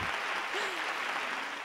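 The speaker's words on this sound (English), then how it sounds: "I put on the applause, but they're still fading out." Faint applause sound effect fading out during a virtual holiday music performance, a soft steady patter of clapping heard briefly and alone.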